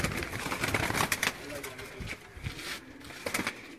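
Breeder pigeons cooing softly in the background on a rooftop loft, several low murmuring calls mixed with movement, shuffling and scattered clicks.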